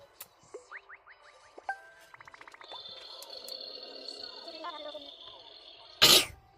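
A single sharp sneeze bursts out loudly near the end, after a stretch of chirpy Animal Crossing game sounds and tones in a decorated bedroom.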